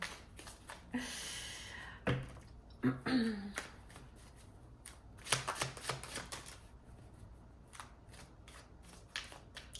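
Tarot cards are shuffled close up, giving soft riffling bursts and quick flicks and taps that come in short clusters before fading into sparse clicks, quiet overall.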